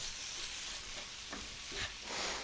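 Ground beef and onions with chili powder, salt and pepper sizzle quietly in a skillet as they are stirred, with a couple of soft scraping strokes over a steady frying hiss.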